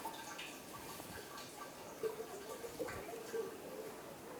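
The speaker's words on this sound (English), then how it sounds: "make sure you have a drain bucket underneath. And drain the oil out." Engine oil drains from the drain plug of a 2013-2016 Dodge Dart with a 2.4L four-cylinder into a bucket, a faint steady trickle with soft drips, quiet and continuous.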